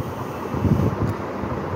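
The Coromandel Express runs toward Chennai after leaving Vijayawada Junction, giving a steady low rumble mixed with a rushing, wind-like roar. It is heard close and continuous, without speech.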